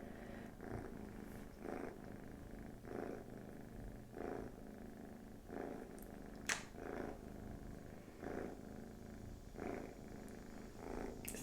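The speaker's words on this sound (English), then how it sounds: "She purrs so loud." A house cat purrs close up in a steady rhythmic cycle of soft rumbling breaths. It sounds quiet and even, with nothing else heard.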